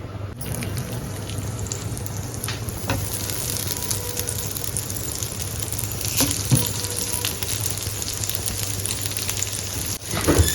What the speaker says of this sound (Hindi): अभी मम्मी सिर्फ 4 फ्राई कर रही हैं